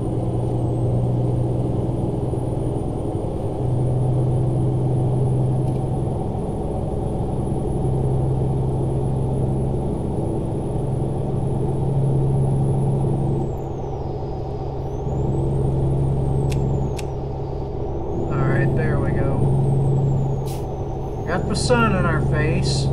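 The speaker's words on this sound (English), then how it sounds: "This is probably my dream truck to drive in ATS because I love cab overs." A cab-over truck cruises in American Truck Simulator with a steady low engine drone and road rumble throughout, while a person talks over it and brief higher hisses come near the end.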